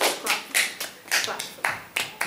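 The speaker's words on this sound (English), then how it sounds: "Clap him more. Clap more." A few people clap in loose, uneven bursts at an end-of-year school broadcast, the claps sharp and fairly close, with a voice talking over them.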